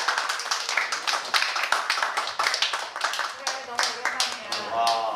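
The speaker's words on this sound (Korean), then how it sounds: "박수 부탁드릴게요." A small audience at a church high school youth group meeting claps in uneven bursts, fairly close and lively, with voices talking and laughing over and between the claps.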